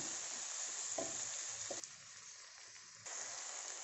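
Tomatoes sautéing in a pan for Bombay chutney, a steady soft sizzle with a few light stirring knocks, close but quiet, the hiss briefly dropping before resuming.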